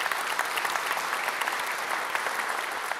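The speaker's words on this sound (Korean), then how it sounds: "감사한 마음을 담아서 대통령님의 여러분 뜨거운 박수 한번 부탁드리겠습니다" Applause from the audience at a meeting between the president and mayors, county heads and district chiefs, a steady dense clapping that fills the room for about three seconds with no voices.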